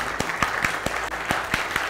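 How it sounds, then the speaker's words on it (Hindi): A seminar audience at a numerology professional success program in Delhi breaks into rhythmic unison clapping, sharp claps landing at a steady beat over a fainter murmur of scattered applause, heard from a little distance. "एक अपने लिए ताली यार"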